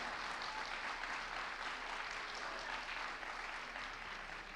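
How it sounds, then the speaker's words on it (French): A school audience claps for middle-school pleading-contest finalists at the Compiègne grand final, a steady, even wash of applause heard from a distance and fairly quiet throughout. "On peut applaudir chaleureusement les participants d'aujourd'hui."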